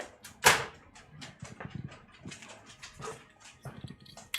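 A dog gives short whimpers and soft snuffling sounds close by in a quiet room, with one sharper burst near the start and faint knocks in between.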